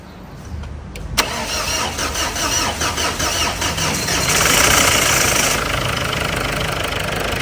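A Ford car engine cranks briefly, catches, and settles into a loud, steady running rumble close by.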